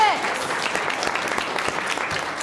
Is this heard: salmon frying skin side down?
no